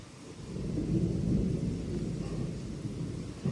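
A summer thunderstorm with wind and rain: a deep rolling rumble of thunder swells and lingers over a constant hiss of wind and rainfall, moderately loud and with no voices.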